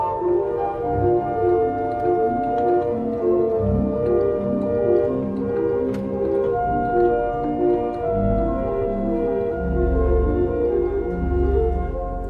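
A pipe organ plays sustained chords moving down toward its bass register, with deep, rumbling low notes swelling beneath steady held tones in a reverberant space, alone and at moderate volume.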